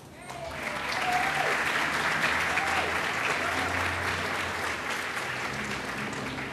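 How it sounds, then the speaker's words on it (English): Sustained applause from a sizeable crowd at a dedication ceremony, a dense steady clatter of clapping that swells in and holds loud throughout. "they deserve your applause"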